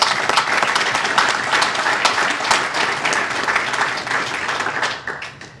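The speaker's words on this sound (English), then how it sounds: "Now that deserves a round of applause." Dense, steady applause fills an auditorium at a university press event introducing a new head football coach, with many hands clapping at once. It stays loud and continuous before tapering off near the end.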